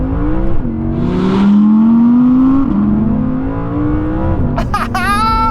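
An Audi R8 rear-wheel-drive car's engine revs up toward 8,500 RPM, a loud, close, climbing mechanical howl that rises in pitch in several sweeps over about five seconds, with short shift breaks between pulls and no voices.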